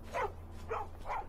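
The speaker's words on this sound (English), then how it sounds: "It's a stray dog, and it doesn't seem to be friendly." A hostile stray dog in the game Skyrim barks three times in a steady rhythm, each bark short and moderately loud over a low, constant background hum.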